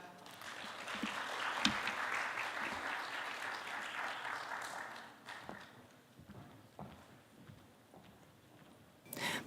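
An audience claps to welcome the head of the Korean Buddhist studies society as a speaker at a meditation expo in Seoul. The dense applause swells, holds, then thins out into scattered claps.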